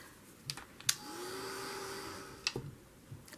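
A hair dryer blows on a journal page, a soft steady whir for about a second and a half between light taps and handling clicks, fairly quiet and close.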